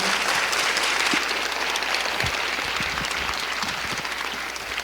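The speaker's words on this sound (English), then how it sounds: "Give her a round of applause, everybody." An audience at a youth mental health panel claps for a young speaker, a continuous roar of many hands at even loudness, with a few low thumps scattered through.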